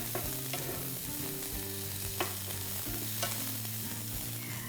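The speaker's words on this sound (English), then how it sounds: "1 teaspoon of ginger paste and 1 shredded onion. Cook the onion till it's nice and brown." Shredded onion with ginger paste and cumin seeds frying in a pan gives off a steady, close sizzle over a low background hum, with a few light stirring taps.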